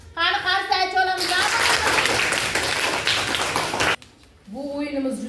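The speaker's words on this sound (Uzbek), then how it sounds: "Ana, qani qarsak olamiz." Children and an audience clap their hands together in a classroom game, a dense burst of applause lasting several seconds between stretches of close talking.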